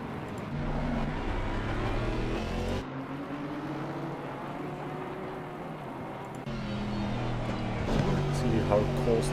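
Aston Martin and Porsche GT race cars at Barcelona in a racing game drone with steady engine tones that shift in pitch as gears change, close and continuous, with a commentator talking over them.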